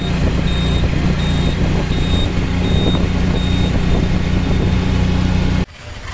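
Dense road traffic in Chandigarh, with a steady loud rumble of engines and a repeating high reversing beep from a vehicle backing up nearby, cutting off abruptly near the end.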